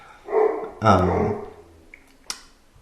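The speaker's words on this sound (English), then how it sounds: "my apologies for the dog barking" A dog barks indoors, two loud close woofs with a growly edge, followed by a faint small yelp and a short sharp noise; no talking over it.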